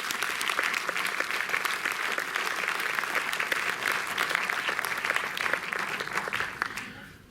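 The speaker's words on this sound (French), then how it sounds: "que je vous demande d'applaudir" A cinema audience at the Méliès in Montreuil applauds steadily and fairly loudly, a dense wash of clapping that holds evenly throughout before tapering off at the very end.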